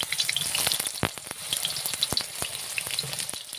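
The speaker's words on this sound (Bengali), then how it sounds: "এবার এক এক করে বেগুনগুলো ছেড়ে দেবো গরম তেলে।" Eggplant pieces frying in hot oil in a kadai, a close, bright crackling sizzle with sharp spitting pops scattered throughout, no voices.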